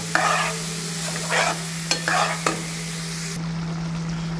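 A spatula scrapes and stirs spice masala with coriander root in a frying pan for chicken curry, several brisk stirring strokes over a constant low sizzle and hum, ending in quieter frying.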